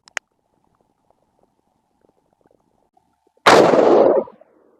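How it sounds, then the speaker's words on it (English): A single loud rifle shot from a .22 ARC rifle fired at a range while sighting in, a sharp blast with a brief decaying tail, following near silence and a faint click. "I'm going to shoot one more time at 60 and see what happens."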